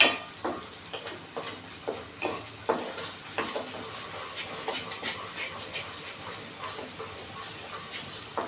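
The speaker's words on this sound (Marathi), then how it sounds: "तडका हलवत राहायचं ते कुठेच ग्रेव्ही खाली लागता कामा नये सारखं हलवत राहायचं" Tadka for paneer gravy being stirred in a pan, with scraping and clinking strokes over a steady sizzle, close and moderately loud, no talking.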